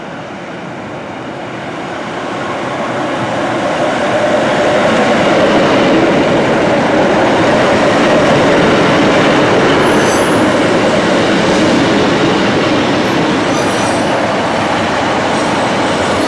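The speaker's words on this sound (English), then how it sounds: "we're here for an hour to film some sprinter trains through here" Sprinter train passing through Burscough Bridge station in snowy West Lancashire, rising from a distant rumble to a loud, close roar of wheels and rail noise with faint squeals, sustained as the carriages go by.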